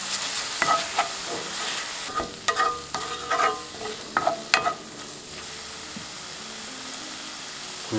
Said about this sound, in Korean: 새우도 살살 볶겠습니다. 칠리 소스 넣고